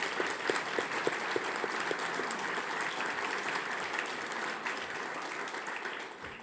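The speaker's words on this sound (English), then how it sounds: "let's give them a round of applause." Audience applause fills a business awards ceremony, a steady, dense clapping from a sizable crowd that carries on evenly throughout, fairly close and loud with no voices over it.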